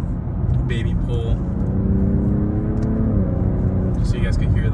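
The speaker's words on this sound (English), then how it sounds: "just so you guys can hear like the engine" A BMW M340i's engine revs up during a gentle pull, with a rising tone that steps up partway through over steady road rumble, while a voice talks over it.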